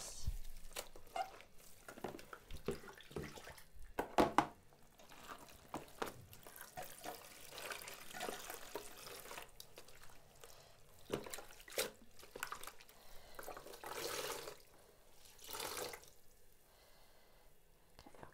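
Running water rinsing solar-dyed fabric, irregular splashing and trickling with soft drips and sloshes, close and fairly quiet, swelling in bursts as the cloth is worked under the flow.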